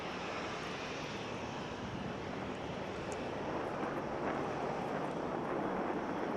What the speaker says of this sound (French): Le Canadair, c'est autant un avion qu'un bateau.